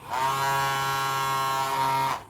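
A battery-powered toy bubble machine's small motor runs with a steady, loud electric buzz for about two seconds, starting and stopping cleanly.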